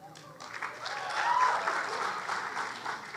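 Audience applause at a graduate school graduation ceremony, steady and moderately loud, swelling slightly in the middle of the clip, with no talking over it.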